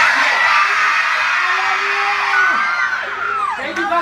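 A concert crowd screams and whoops a performer's name together, loud and sustained, with a dense wash of many voices filling the space.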